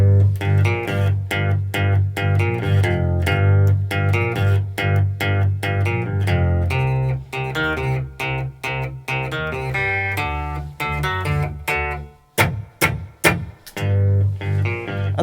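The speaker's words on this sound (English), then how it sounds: "you could actually do percussive strums on beats 2," Electric guitar playing a bass line with percussive muted strums between notes, steady rhythmic plucks and choppy chord hits up close, a brief gap of sharp scratchy strums near the end before the line resumes.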